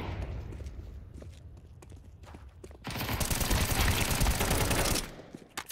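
Gunfire in Counter-Strike 2 during a ranked FACEIT match: scattered shots and clicks give way to a loud, dense burst of sustained automatic fire lasting about two seconds, then fading to a few stray shots.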